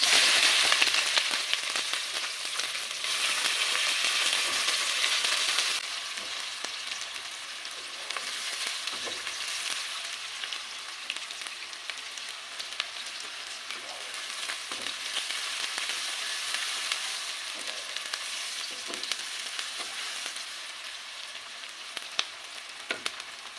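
Two medium sliced onions sizzle steadily in hot oil in a pan, a continuous bright frying hiss with occasional stirring scrapes, close and moderately loud, with no talking.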